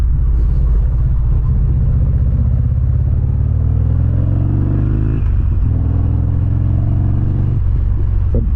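A 2009 Harley-Davidson XR1200 Sportster engine on a test ride, giving a loud, close, deep rumble that rises in pitch as the bike revs, dips briefly, then climbs again.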